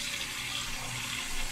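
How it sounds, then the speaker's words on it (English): Hot tap water runs steadily into a pan at a kitchen sink, a continuous close hiss and splash with a slight surge near the end and no talking. "put a little water, warm hot water, inside your pan."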